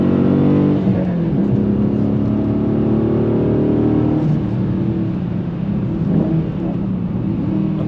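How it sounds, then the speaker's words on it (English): A Dodge Challenger Scat Pack V8 pulling hard in third gear, its engine note a loud, steady rising drone heard from inside the car, sustained with slight shifts in pitch throughout. "Third gear, she just pulls the torque."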